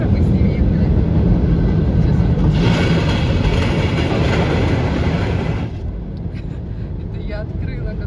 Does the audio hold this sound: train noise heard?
yes